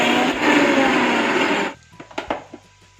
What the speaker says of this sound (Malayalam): എന്നിട്ട് ഇതെല്ലാം കൂടെ നല്ലോണം ക്രഷാക്കി എടുക്കുക.